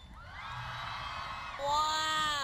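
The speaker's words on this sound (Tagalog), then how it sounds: "Isang hiyawan naman dyan!" A crowd at the UMak Rise SHINE Anywhere university concert whoops and cheers between songs, with high shouting voices building steadily and swelling into a louder burst of screams near the end.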